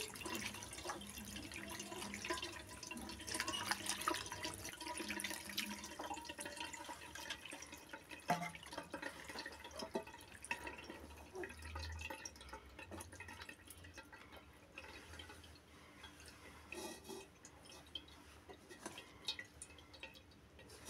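Fresh chhena (paneer) being rinsed in water for rasgulla at home, with continuous dripping, splashing and running-tap sounds at moderate level and scattered small clinks throughout.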